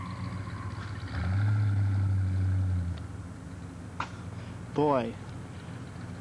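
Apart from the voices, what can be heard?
1990 Cadillac engine revving during a burnout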